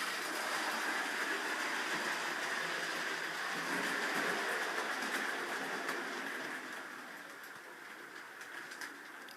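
A model railway train-arrival sound effect: a train rumbles in with a steady, hissing roll and faint high squeals, slowly easing off toward the end.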